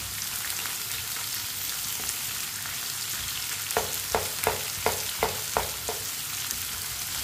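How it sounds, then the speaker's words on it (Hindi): Finely chopped onion fries in oil with potatoes in a pan, a continuous even sizzle, and in the second half a run of regular tapping knocks from stirring. "बारीक कटा हुआ प्याज डाल लेंगे। प्याज को भी 2 मिनट के लिए पका लेंगे।"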